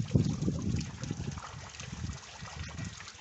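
Heavy monsoon rain falls outside a rural home, a faint, steady wash of water with soft trickling and splashing heard from a distance and no talk.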